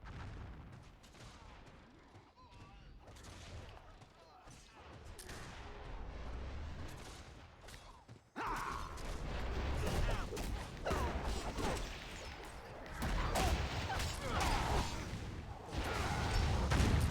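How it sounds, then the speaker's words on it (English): Gunfire and booming blasts from a large open-realm battle in the fantasy online game Warhammer Online: Return of Reckoning, a dense, continuous clatter of shots and impacts that grows louder partway through. "Keep thinking that gunfire's behind me."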